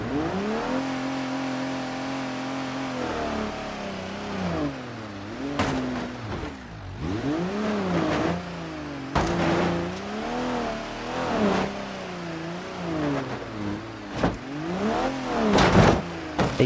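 A Nissan Patrol engine revs and surges while driving off-road in BeamNG Drive, its pitch rising and falling repeatedly over rough terrain, loud and close throughout, with sharp bumps and knocks from bouncing, and no talk.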